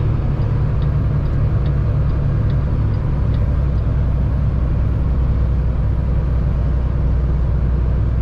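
Heavy truck engine on a hill climb, downshifting as it loses RPM, a steady loud low rumble continuing throughout with no talk.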